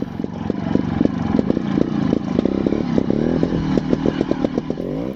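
A Scorpa 250 trials motorcycle putters along near the shore, its single-cylinder engine firing in rapid, uneven bursts that rise and fall with the throttle, close and loud.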